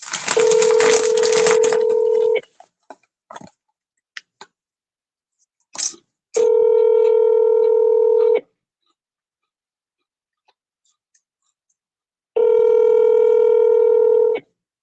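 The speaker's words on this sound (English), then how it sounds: "Let's see if we can get them back on." Telephone dial tone with a rapid burst of DTMF keypad dialing at the start, followed by two more steady dial-tone stretches of about two seconds each separated by silence and a few faint clicks.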